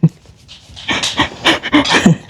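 A dog pants close up in a home, quick breathy huffs repeating in an uneven rhythm, loud and unaccompanied by talk.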